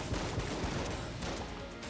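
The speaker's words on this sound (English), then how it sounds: "Oh my god, so many explosions." Explosions and gunfire in the Enter the Gungeon video game, a dense, continuous barrage of booms and rapid shots with no pauses, loud and close throughout.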